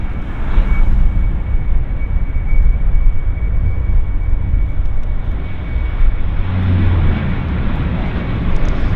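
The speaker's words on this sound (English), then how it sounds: "WestJet. Always nice when they land on this side." A WestJet Q400 turboprop airliner lands at Vancouver International Airport, a steady, loud, broad engine and airflow roar that holds for the whole stretch and swells slightly toward the end, with no talk.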